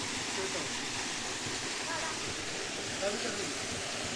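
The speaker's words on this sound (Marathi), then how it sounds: "इथं हा छोटासा धबधबा आहे" A small monsoon waterfall beside a little pipal tree in a green hidden spot gives a steady, soft broadband rush of falling water, constant and fairly distant throughout.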